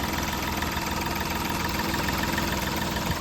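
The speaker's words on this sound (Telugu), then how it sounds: "ఇంజన్ బీటింగ్ కూడా బాగుందండి" A 2015 Hyundai Grand i10 Magna diesel engine idles with a steady, even rumble and a faint, continuous clatter. No one speaks over it.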